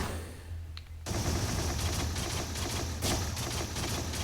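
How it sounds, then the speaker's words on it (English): Commando gunfire in the Risk of Rain video game, a rapid continuous stream of sharp shots after a brief quieter lead-in, loud and close. "I honestly like one's commando gunshot noise better than two's"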